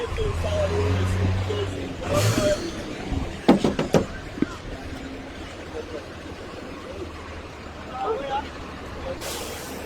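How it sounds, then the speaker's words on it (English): Buses being maneuvered and arranged at the Freeport of Monrovia, with engine drone, a short hiss of air brakes and a clatter of knocks mid-way, under someone talking and distant crowd noise. "So yes, these buses are now being arranged."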